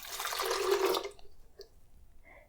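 Water pours into a container for an immune concoction of garlic and cayenne, a close rushing splash lasting about a second before tapering into faint drips and quiet.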